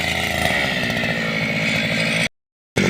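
The engine of a Forte MKB-25LUX motor cultivator runs at half throttle with a loud, close, buzzing drone. It cuts out abruptly to silence for about half a second before roaring back.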